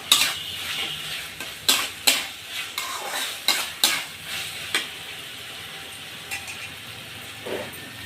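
A papaya and poppy-seed mixture is stirred in a frying pan, a run of rhythmic metal spatula scrapes and clinks over a gentle sizzle that thins out toward the end, close and with no voices.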